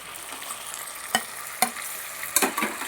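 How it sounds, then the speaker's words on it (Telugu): Onion, tomato and ginger-garlic paste frying in a pan, a close sizzle broken by a few sharp scrapes of a spoon stirring against the pan. "ఉల్లిపాయ వేసుకుని వేపుకోవాలి."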